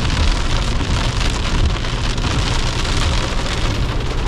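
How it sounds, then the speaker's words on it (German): Steady, heavy rain pattering on a tent during family camping, a dense continuous hiss with no voices. "Es regnet."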